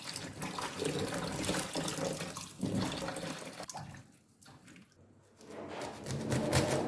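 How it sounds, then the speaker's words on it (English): Water from washed greens drains through a sieve, splashing and trickling close by, loud then easing off briefly before picking up again. "I'll transfer it into my sieve to drain out the water."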